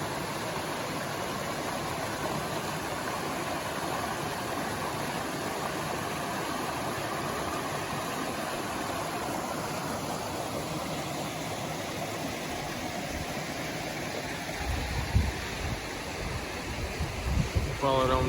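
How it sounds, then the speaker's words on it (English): A small stream spilling over a waterfall on the Appalachian Trail sends up a steady, close, broadband rush of water that stays constant throughout, with a few low thumps near the end. "Come up on this little stream, this waterfall up through there"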